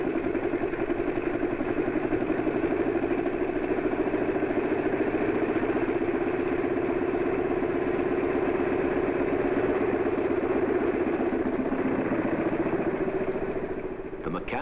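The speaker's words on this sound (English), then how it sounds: "Then they put the engine back together again and run it at high speed for many hours." An aircraft engine runs steadily on test after reassembly, a continuous droning hum that holds at an even level and eases off at the end.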